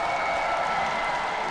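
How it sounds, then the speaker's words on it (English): Steady, dense applause from a hometown crowd cheering fencer Itkin at a foil fencing event, a continuous wash of clapping filling the hall. "There he is, getting a big rounding applause from the fans here, his hometown fans."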